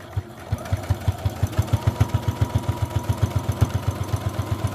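Sewing machine stitching a fabric potholder, a steady, rapid mechanical needle rhythm running evenly and close throughout with a low motor hum beneath.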